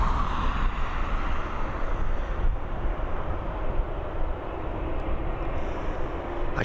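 An ATR 72-600 turboprop takes off from Dublin Airport bound for Edinburgh, a steady, moderately distant engine drone with broad rumble and hiss holding level throughout, no voices.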